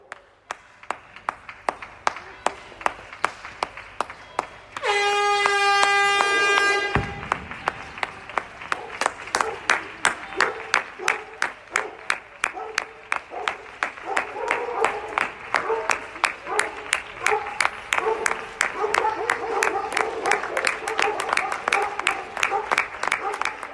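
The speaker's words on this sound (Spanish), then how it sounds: "Os voy a poner un trocito de esos aplausos" Neighbours applaud from balconies at 8 pm in Sant Pere de Ribes, a steady patter of many hands clapping across the street, with a brief ringing tone and a short whistle-like burst early on, continuing evenly to the end.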